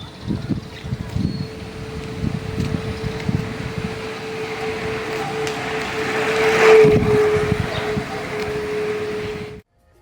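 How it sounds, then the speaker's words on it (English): A steady tone plays from a bike ridden past close by, its pitch holding level, then dropping as the bike sweeps past, over rushing wind and rolling noise before it cuts out. "I'll ride my bike past a microphone while playing a steady sound"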